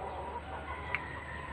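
Chickens on a small backyard farm plot, clucking faintly and steadily at a distance, with one brief louder note partway through, set against a low outdoor background hum.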